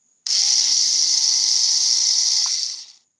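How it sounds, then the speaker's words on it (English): A small power drill driver whirs steadily for nearly three seconds at close range, a high buzzing motor whine that starts abruptly and winds down at the end, driving screws. "No, it's a little drill. It's a little driver."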